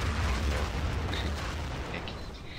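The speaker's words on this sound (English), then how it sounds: "That's another artillery strike." A loud, sustained rumbling blast from an artillery strike in the video game Battlefield 2, a dense low roar with scattered crackles and pops fading slightly, heard alone.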